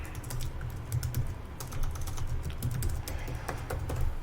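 A password being typed on a computer keyboard, the keys clicking in quick irregular bursts at close range, soft and without talk.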